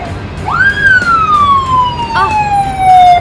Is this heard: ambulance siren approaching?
yes